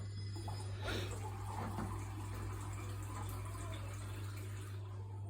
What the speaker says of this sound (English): Mixing it with water